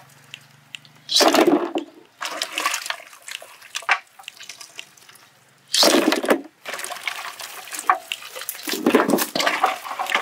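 Boiled meat lifted into a pot of hot water during village cooking, giving several loud, splashy watery bursts separated by quieter sloshing and clinks.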